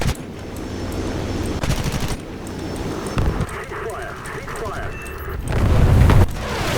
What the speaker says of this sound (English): I'm gonna show you how good these cannons are at just taking out planes